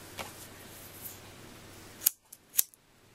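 Scissors trimming the folded point of a fabric kanzashi petal: two sharp, crisp snips close by, separated by a short pause, in an otherwise quiet room.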